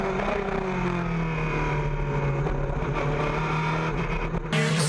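Mid-engine Corvette C8.R race car drones loudly at high revs, holding a steady, buzzy pitch as it drives past on demonstration laps, with a sharp shift in tone just before the end.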